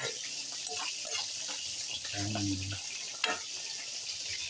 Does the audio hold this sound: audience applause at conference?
no